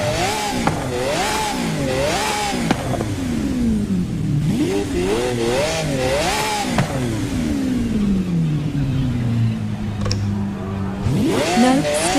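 Lamborghini Aventador SV engine in Forza Horizon 5 revving repeatedly, rising and falling in sharp loud sweeps with rev-limiter bursts, a long sustained high rev in the middle and one more climb at the end, heard alone.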